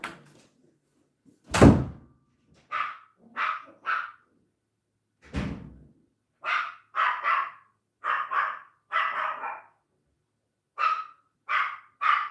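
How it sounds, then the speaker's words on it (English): A dog barks in short bursts of two to four sharp barks, mid-distance, after a heavy door thud or two, with quiet gaps between the runs and no talking. "There's the door."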